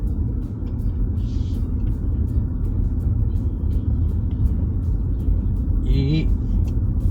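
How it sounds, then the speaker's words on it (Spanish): Interior of a 2024 BMW iX2 eDrive20 on the road, a steady low rumble of road and tyre noise throughout, with someone talking over it. "ver qué tal va este iX2 en la carretera"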